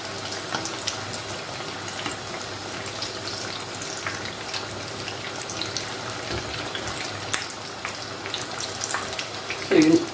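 Samosas stuffed with minced meat frying in hot oil, a steady hiss and sizzle with a brief louder splash near the end, no voices.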